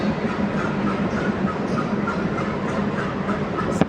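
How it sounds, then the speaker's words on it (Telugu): A WDG3A diesel locomotive from the Moula Ali shed moves off through a station, a dense steady rumble with faint wheel clatter, continuous and fairly close, a brief sharp squeal near the end. "WDG3A Moula Ali locomotive"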